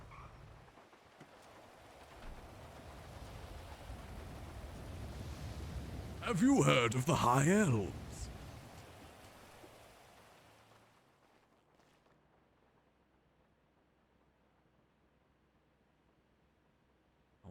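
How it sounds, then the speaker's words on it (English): Steady rainfall hisses through a NoPixel GTA V roleplay scene, a soft broadband wash that swells midway and then fades, with a voice speaking over it. "the rain really makes me depressed"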